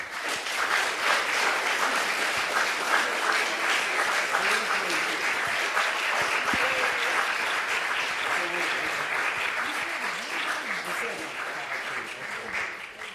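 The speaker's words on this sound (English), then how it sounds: "can you just give my panelists a round of applause one more time?" Sustained audience applause for panelists at the Black @ Pomfret panel, a broad, continuous roar of many clapping hands holding steady for over ten seconds, with some voices mixed in beneath it.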